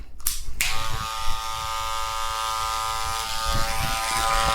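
An electric hair clipper starts with a click and settles into a steady, close, loud buzz with a bright humming tone while cutting a drop-down fade on the sides and back, shifting slightly in pitch as it moves.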